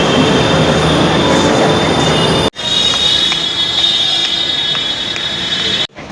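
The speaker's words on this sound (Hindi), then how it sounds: "तो हम पहुंच चुके हैं करोल बाग वाले मेट्रो स्टेशन" A metro train rumbles and hisses through Karol Bagh metro station in Delhi with a high whine and screech, loud and continuous, then cut off abruptly near the end.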